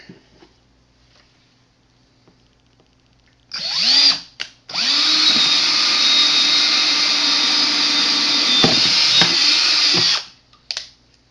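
A power drill spins up briefly, stops, then bores through a fry keeper bulkhead piece in one long steady high whine for several seconds before winding down with a short final burst.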